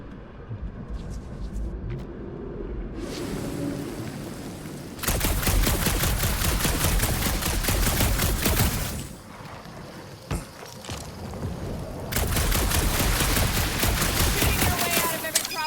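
Gunfire in Marvel's Guardians of the Galaxy video game: dense, sustained bursts of rapid shots in two long stretches, separated by a brief quieter lull with a single sharp crack, loud and close with a rumbling game backdrop.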